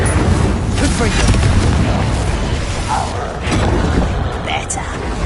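Confringo fire spell blasts in the Hogwarts Legacy video game, with loud booming and rumbling impacts and crackling debris, close and heavy. A voice speaks over the blasts.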